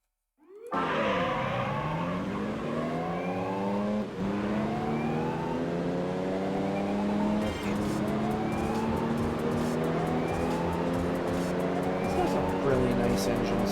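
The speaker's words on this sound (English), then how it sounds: "Really nice engine sound to it." A Gran Turismo 3 race car engine revs hard and climbs repeatedly through the gears, a loud continuous whine with music and someone talking over it.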